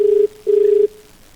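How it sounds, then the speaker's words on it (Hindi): Telephone ringback tone on an outgoing call to a municipal office in Ayodhya: two steady electronic tone bursts, a short one then a longer one, loud and close with no speech. "जयेंद्र शर्मा जी को फोन लगा रहे हैं"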